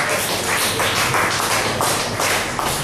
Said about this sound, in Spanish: ¿Cuántos aplauden al Señor en esta hora?